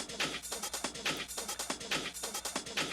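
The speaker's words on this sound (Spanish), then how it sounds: "Tenemos un drum loop que básicamente nos suena así." Techno drum loop built on rapid sixteenth-note hi-hats with claps and light percussion, a steady driving electronic pattern playing loud and alone with no talking.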